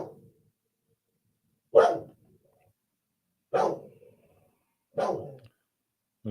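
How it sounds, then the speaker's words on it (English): Dogs bark in three separate loud, close single woofs spaced over a couple of seconds apart, with a faint trailing whine after the first and another bark starting at the end. "Dogs?"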